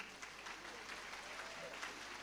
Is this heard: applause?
yes